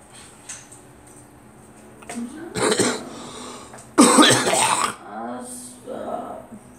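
A few harsh, rough coughs and sneeze-like bursts, close and fairly loud, separated by short pauses, with low background noise.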